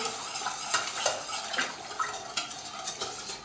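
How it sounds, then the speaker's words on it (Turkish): Sugar and lukewarm water being stirred together in a pot, a steady scraping and swishing with light clinks of the utensil against the sides, close and continuous with no talk. "Şöyle bir karıştıralım."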